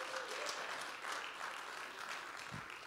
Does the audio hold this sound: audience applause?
yes